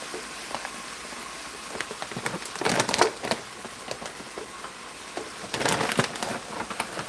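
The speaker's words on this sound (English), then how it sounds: "Because it's raining." Rain patters steadily on a surface, with louder, crackling bursts of drops coming in irregular surges. No one speaks.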